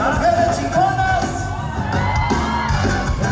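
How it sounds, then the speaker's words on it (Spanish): A crowd of women at a lively party shouts, whoops and cheers together, loud and sustained, over music. "Y el grito de las mujeres chingonas."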